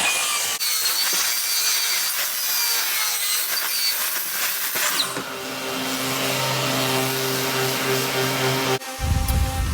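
A power jointer planes the edges of a cedar and epoxy resin serving tray, a loud, steady whirring cut that shifts tone midway and stops abruptly near the end.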